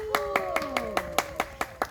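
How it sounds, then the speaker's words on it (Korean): A small outdoor audience at a community eco-theatre performance in a park claps in a brief, steady burst of about nine sharp, evenly spaced hand claps, with a faint voice and tonal sounds underneath. "박수."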